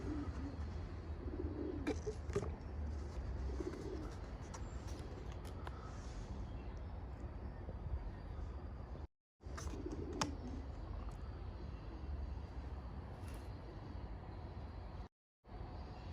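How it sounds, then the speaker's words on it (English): Pigeons and a white dove coo softly in an old Welsh town, low murmuring calls under steady outdoor background noise with a few faint chirps. "we have found our first Welsh pigeons and a beautiful Welsh white dove"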